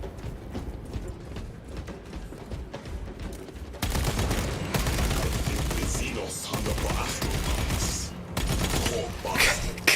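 Bolt weapon gunfire in a video game, a dense run of loud, rapid shots that grows heavier partway through and continues steadily under occasional talk.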